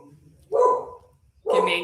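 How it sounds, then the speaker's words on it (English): A dog gives two short barks, separated by a pause, fairly close but not loud, in an indoor setting. "I don't know if it was my dogs or yours."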